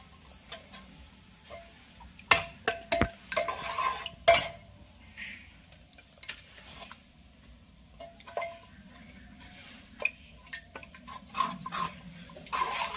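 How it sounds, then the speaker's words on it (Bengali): A ladle mashes jackfruit seed dal in a metal pot, giving scattered clinks and scraping taps against the rim, irregular and close, separated by quiet pauses over about thirteen seconds. "তবু মা একটু হাতা দিয়ে বেশি গলিয়ে নিচ্ছে"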